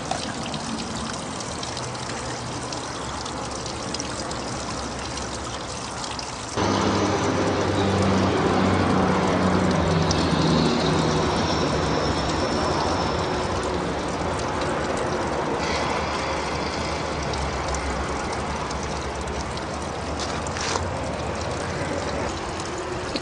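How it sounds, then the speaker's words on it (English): A spiral gold wheel turns with water running through it as dredged material is processed, a continuous trickling wash with faint mechanical ticking that grows louder and fuller after the first few seconds. "this is our gold dropping out in the pan in the back of the gold wheel, spiral wheel"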